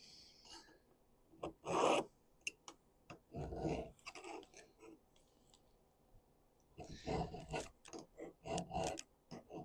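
A hand file rasps against a garden tool blade in short scraping bursts, several separate strokes with pauses between, close and moderately loud with no talk.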